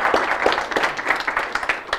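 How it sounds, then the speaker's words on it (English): Audience applause at a tech meetup talk, a dense, steady wash of many hands clapping close by, lasting the whole moment without any voices. "a round of applause for Joera"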